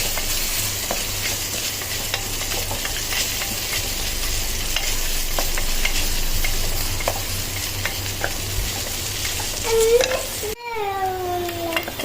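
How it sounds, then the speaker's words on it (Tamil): Onions sauté in a pan for vegetable biryani with a continuous close sizzle and scattered stirring clicks, then a brief sharp squeak-like scrape and a sudden cut near the end, without speech. "வெங்காயம் நல்லா சாட் அவுட் ஆகிட்டுருக்கு"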